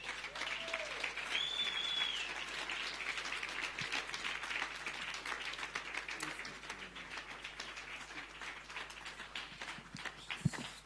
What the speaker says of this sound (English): Clap hands for her.